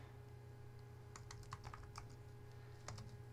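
Quiet computer keyboard typing in a short irregular burst of keystrokes with a pause and a final few taps, over a steady electrical hum.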